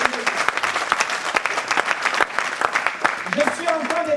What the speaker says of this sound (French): Est-ce qu'on ne peut pas acclamer Dieu?